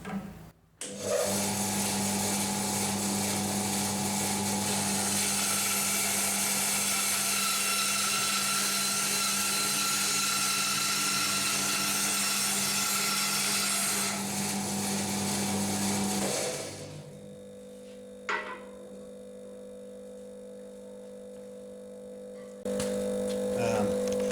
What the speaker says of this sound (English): It doesn't like cutting hardwood, this blade, so it tends to burn a little bit.